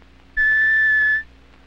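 A Mauch Stereotoner reading aid sounds a single sustained electronic tone for a letter's horizontal bar, a clean steady pitch lasting under a second that starts and stops sharply against a quiet background.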